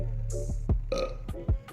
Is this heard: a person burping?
yes